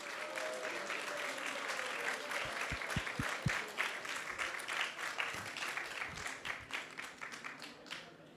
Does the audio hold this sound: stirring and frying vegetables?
no